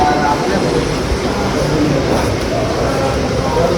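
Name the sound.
train at Dimapur railway station platform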